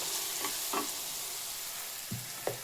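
Masala chicken frying in a pan for a chicken gravy, a steady close sizzle with a few brief stirring clinks and scrapes.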